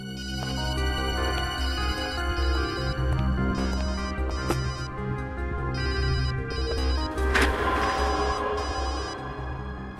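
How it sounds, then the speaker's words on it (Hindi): A mobile phone rings somewhere in a lab, its repeating electronic ringtone steady and fairly loud over a continuous low background hum, with no talking. "घंटी तो लैब में बज रही है, मतलब तारिका का फोन यही कहीं है लैब में"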